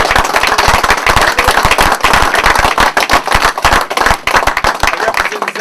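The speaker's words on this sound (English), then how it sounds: "clap your hands and let me know you miss yours." An audience at a teen open mic and showcase claps hands, loud, sharp, fast claps from a crowd, close up and continuous.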